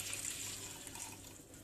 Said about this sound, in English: just remove the excess water by pressing it like that